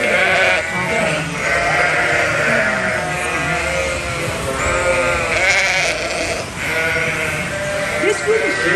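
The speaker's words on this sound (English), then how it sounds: "This group of sheep is an older group of ladies" A flock of older ewes bleats repeatedly on a farm, overlapping calls near and far forming a dense, continuous chorus through the whole stretch.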